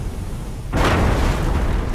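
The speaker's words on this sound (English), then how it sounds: "a fireball erupted from the furnace, engulfing the area and igniting airborne dust in a second, larger explosion" Dust explosion effect for an industrial safety piece, a furnace fireball igniting airborne dust: quiet low rumble, then a sudden loud deep boom at about three quarters of a second that rolls on as a sustained roar.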